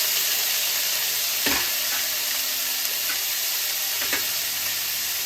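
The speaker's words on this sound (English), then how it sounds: "And then let's start sauteing this a little." Vegetables sizzle steadily in a pan for Bengaluru-style donne biryani, with a constant bright frying hiss and a few distinct stirring scrapes against the pan.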